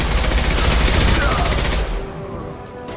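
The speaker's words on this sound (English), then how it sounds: "Firing concussive shot!" A concussive shot fires in Mass Effect 2, a dense burst of gunfire and booming impact that fills the first two seconds loudly before cutting off into quieter game ambience.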